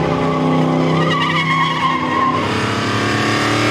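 Loud, sustained squeal of tires skidding over the roaring engine of a 1965 Chevrolet Impala SS big-block, close and continuous throughout.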